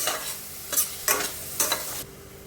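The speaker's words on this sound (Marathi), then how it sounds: "सगळं छानपैकी मिक्स करून घ्यायचं." Kurdai vegetable being stirred in a pan with coriander powder, spice mix and chopped tomato gives three quick scraping strokes over a faint sizzle, close and brief.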